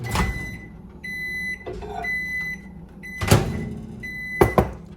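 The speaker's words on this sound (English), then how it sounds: "we're gonna put this in the microwave and we're gonna do like 30-second bursts of microwaving this to get it melted all together" A microwave oven running to melt ingredients for no-bake vegan pistachio chocolate cookies: a steady hum with a fan drone and whine, broken by door clicks and clunks between short runs, close and alone.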